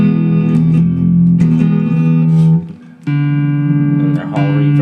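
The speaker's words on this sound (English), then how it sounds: "So there's spring reverb." A Vox VT20+ modelling guitar amp plays sustained clean chords through its spring reverb, the notes ringing out with a wash of decay, close and loud, with a brief dip before the next chord.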